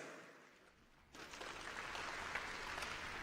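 Applause breaks out at a pitch competition event after a presenter named Priska, starting abruptly from a quiet room and holding as a steady, fairly distant wash of clapping.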